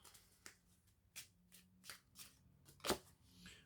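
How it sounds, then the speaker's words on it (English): A tarot deck is shuffled by hand in quiet, close-up bursts of crisp papery riffles and snaps. They come at roughly half-second intervals, with one sharper, louder flick near the end. No one speaks. "These cards shuffle like shit."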